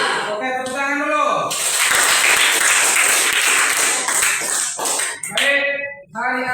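A voice speaks, then a lecture-hall audience at an Islamic university event breaks into loud, dense applause lasting several seconds before talking resumes over the fading claps.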